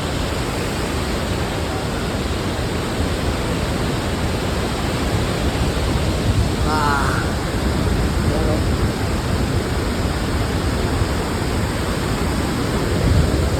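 Steady broadband roar of water rushing over the old Wawa Dam, loud and continuous throughout, with a faint brief voice partway through.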